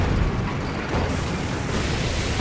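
Tank cannon firing in the war game Codename: Panzer, a dense, loud roaring blast that stays heavy across the moment, with a rumbling low end and no voices over it.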